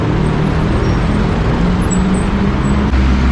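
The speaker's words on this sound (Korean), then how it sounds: "프리 셔틀 버스가 들어오고 있습니다." A free shuttle bus idles and rolls in at Mega Bangna mall in Bangkok with a steady low engine rumble, loud and close, broad road noise filling the whole stretch.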